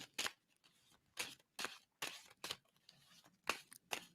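A tarot deck shuffled by hand gives sharp, papery card slaps in roughly eight separate bursts, close and fairly loud, with quieter rustling between them and no voices.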